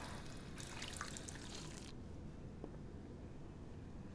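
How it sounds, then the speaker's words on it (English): Running water in the Fallout 4 video game, a faint steady trickle and splash that is stronger in the first two seconds and then fades to a quiet background hiss. "At least he has running clean water."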